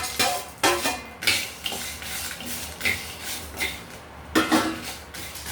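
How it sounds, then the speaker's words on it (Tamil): Spatula scraping and clinking in a dry pan while coriander seeds, dried red chillies, cinnamon, cloves, star anise, cumin, pepper and fennel roast for mutton kuzhambu, in a run of close, uneven stirring strokes with short gaps. "மல்லி, வரமிளகா, பட்டை, கிராம்பு, அன்னாச்சிப்பூ, சீரகம், மிளகு, சோம்புங்க எல்லாம் போட்டு வறுத்துக்கலாங்க"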